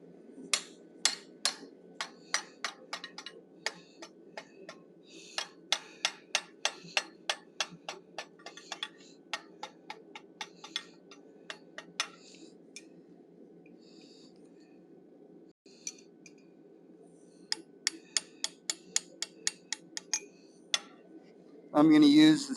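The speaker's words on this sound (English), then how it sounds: "Then I'm going to use that same chisel to separate the ears from the horn" A steel chisel struck by a hammer to separate the ears from the horn on a forged bison head rings out in repeated sharp metallic taps, grouped in quick bursts with short pauses, close and clear.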